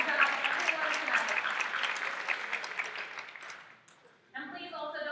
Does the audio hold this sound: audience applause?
yes